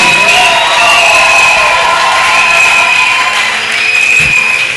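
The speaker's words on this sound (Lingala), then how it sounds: "Est-ce que vous pouvez acclamer pour le Seigneur avec des cris de joie?" A church congregation cheers and cries out with joy, a dense, steady roar of many voices that stays loud throughout with no single speaker standing out.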